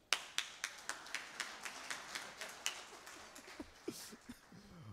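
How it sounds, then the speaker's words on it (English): A single person claps hands at an awards dinner, about a dozen sharp, fairly even claps heard close and alone, trailing off near the end with faint background murmur. "Let me clap for you guys."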